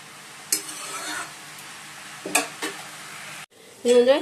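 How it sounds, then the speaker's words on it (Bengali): Prawns frying in a pan with oil and spices, a few bursts of sizzling and stirring scrapes, the loudest burst at the end, close and moderately loud with no talk. "চিংড়ি মাছটা এবার ভেজে নিচ্ছি"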